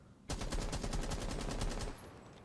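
Rapid automatic gunfire in Rainbow Six Siege, a loud sustained burst of evenly spaced shots lasting about a second and a half, then cutting off to a quieter tail.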